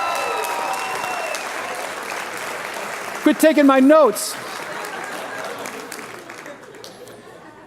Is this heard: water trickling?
no